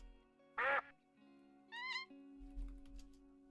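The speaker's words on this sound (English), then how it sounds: "It makes bird noises." A chat-command sound effect of bird noises plays in a quiet room as a short burst of squawking calls, then a trilling chirp, with faint background clatter and no speech.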